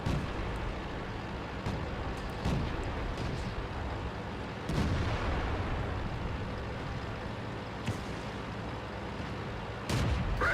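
A KV-1 tank in a tank combat game fires while moving, several sharp booming shots spaced apart over a continuous rumbling engine drone.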